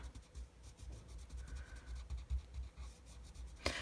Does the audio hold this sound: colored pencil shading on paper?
yes